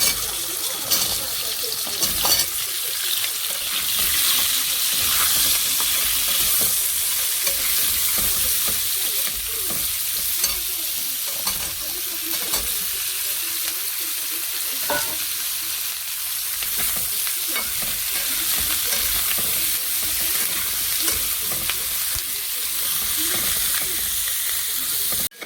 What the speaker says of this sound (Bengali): সবজিটাকে একটু ভেজে নিয়েছি